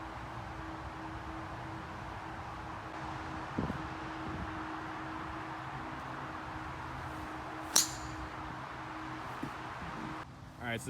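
Wind blowing across an open golf course makes a steady broadband rush, moderately loud and fairly even throughout, with a few brief knocks and a short sharp click near the end.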